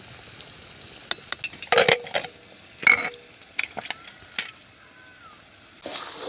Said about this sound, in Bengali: সবজি ভাজা হয়ে গেছে, সবজিগুলো এখন আমি তুলে নেব।